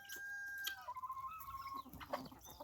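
A young Italian-breed rooster on a village farmyard gives a string of soft clucks and short vocal calls, with a thin whistling tone early on, heard fairly close against a quiet background.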